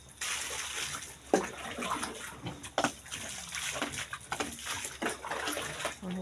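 Water splashing and running during washing, continuous sloshing and pouring with irregular splashes and clatters across the whole stretch, fairly close.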